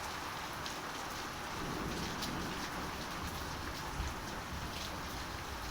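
Heavy rain falls just outside a house door in daytime, a steady close hiss with scattered drips spattering on hard surfaces, fairly faint overall, and nobody speaking.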